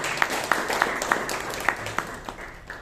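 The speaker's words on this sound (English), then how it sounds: "Big round of applause." A small crowd at a Toastmasters meeting claps for a few seconds, scattered sharp claps over a light patter, moderately distant and fading slightly toward the end.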